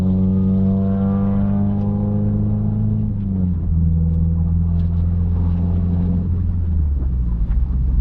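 A car fitted with Tein Flex Z coilovers drives at road speed limit, giving a steady loud engine drone with wind rumble that shifts pitch around the three- and six-second marks as it changes gear, with no talk.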